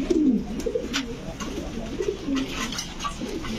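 Fancy pigeons, including beauty, king and pouter breeds, coo in low, throaty, warbling phrases at a pigeon shop. The calls repeat close by against a soft, steady background hum.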